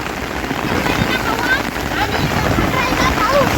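Heavy rain pours down in a forest during a jungle trek at Aadrai, a dense, steady roar of water with no break and voices faintly mixed into the wash.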